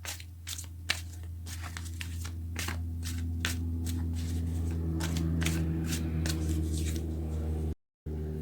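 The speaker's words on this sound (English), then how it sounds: "You get to create the reality that you want" Tarot cards are shuffled in a rapid, crisp run of riffling bursts over a steady low hum, close and fairly loud, with no talking, before a brief cut to silence near the end.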